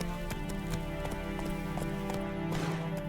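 Horse hooves clip-clop steadily in The Witcher 3 while riding, a close, regular rhythmic patter over constant game background music, with a brief whinny-like tone near the end.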